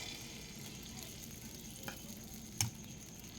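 Egg batter sizzles in the hollows of a paniyaram pan, a steady close frying hiss with a couple of small clicks and one sharper tap of metal near the end.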